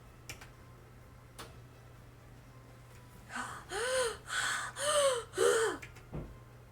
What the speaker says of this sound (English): Heavy breathing can be heard from the other line.